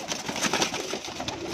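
Pigeons in a breeder's flock coo softly and repeatedly at close range, their low throaty calls overlapping in a steady murmur with no talk.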